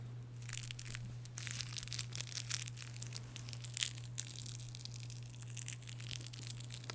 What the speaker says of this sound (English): I'm going to do one more sound trigger. I have here a Crinkly toy.